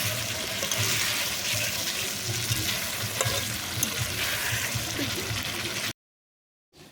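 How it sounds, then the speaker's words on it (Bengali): Liver bhuna frying in a pan in a home kitchen, a steady close sizzle with stirring scrapes that runs unbroken for about six seconds before cutting to silence. "তো এখানে কলিজা ভুনা হচ্ছে।"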